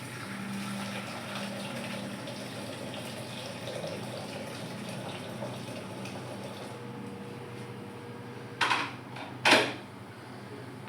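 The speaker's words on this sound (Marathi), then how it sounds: "त्याच्यात टाकते गरम पाणी" Hot water is poured from a tap into a cooking pot, a steady rushing stream running for several seconds, fairly quiet, ending with a couple of sharp metallic clanks near the end.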